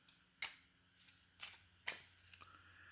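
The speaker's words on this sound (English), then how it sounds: "Then you shuffle the cards that weren't picked back in." Playing cards are shuffled in a few quick, crisp riffle bursts spaced about half a second apart, close and fairly quiet, with no talking.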